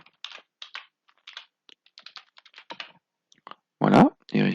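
Fingers typing a short folder name on a computer keyboard, a quick run of light close-up clicks in uneven bursts, with a couple of louder thumps near the end.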